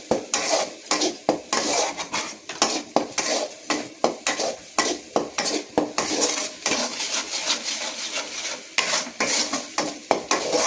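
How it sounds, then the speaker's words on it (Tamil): Spices crackle and sizzle in hot oil during tempering while a utensil clinks and scrapes against the pan in quick, irregular strokes, close up. "கொஞ்சம் எண்ணெயில் தாளிக்கணும்."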